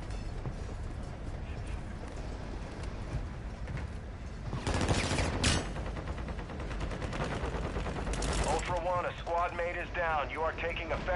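Bursts of gunfire in a Call of Duty Modern Warfare 2 match crack out in short volleys, mixed with a muffled, busy battle background, while players talk over the action.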